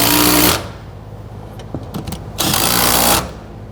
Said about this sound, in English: tighten down the back bolts